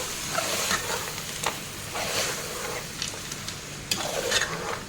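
Masala frying in a pan for a salted fish and black-eyed pea rice, a steady close sizzle broken by a few scraping stirs, with no voices.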